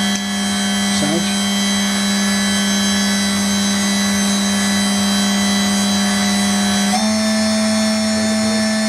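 Spindle of a Brother TC-32B QT CNC vertical machining center running at 12,000 RPM, a steady loud high-pitched whine with strong tonal hum that shifts pitch slightly near the end as speed changes.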